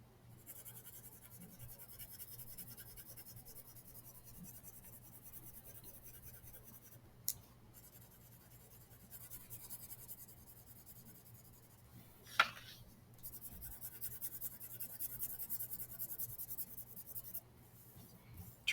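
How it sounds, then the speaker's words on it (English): Graphite pencil shading on drawing paper with the side of the pencil lead, a soft continuous scratchy rubbing that runs steadily throughout at close range, with a couple of brief sharper clicks and a slightly louder stretch near the end. "So I'm using the side of my pencil here."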